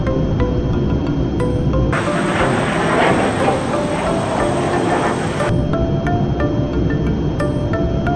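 An airliner in flight gives off a loud, steady roaring drone that fills the whole stretch, growing brighter and more hissing through the middle before settling back to a lower rumble.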